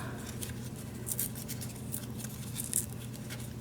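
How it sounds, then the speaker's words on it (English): Paper with stars and paint chips is torn by hand in a string of short, crisp rips and crackles, close and fairly quiet over a low steady hum, with no talking. "Maybe I'll just kind of rip that a little bit."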